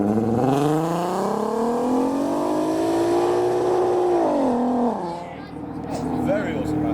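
Lowered, slammed cars pull away from a car show, a GT86 and an R32 among them, engines droning and revving steadily close by with a rising and falling whine, while people talk over the noise.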